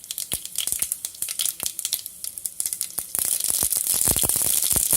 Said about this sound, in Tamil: கடுகு வெடிச்சதுக்கு அப்புறம் 1 ஸ்பூன் கடலைப்பருப்பு